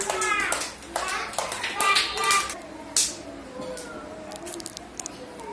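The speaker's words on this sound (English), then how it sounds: "Very good. Clap for Dhanashree" Children clap together in a classroom during a small and capital letter identification game, scattered bursts of claps mixed with young voices and a teacher's speech.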